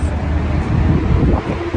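Strong wind roars steadily into the microphone, a loud continuous rumble and buffeting with no clear speech.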